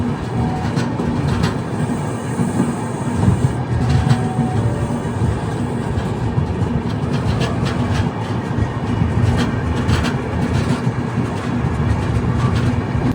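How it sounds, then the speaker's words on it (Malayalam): The Velankanni–Ernakulam Express pulls into Nagapattinam Junction, a loud, continuous rumble of rolling rail cars with rhythmic wheel clatter and occasional higher squeals, heard close from on board without talking. "നമ്മുടെ വേളാങ്കണ്ണി എറണാകുളം എക്സ്പ്രസ് അങ്ങനെ നാഗപട്ടണം ജംഗ്ഷനിലേക്ക് കണ്ട് കയറുകയാണ്"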